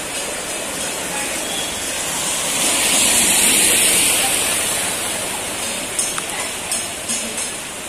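Floodwater rushing through knee-deep waterlogged streets near a temple circle in Vasai Virar during heavy monsoon rain, a steady loud broadband roar swelling in the middle, with a few faint knocks toward the end.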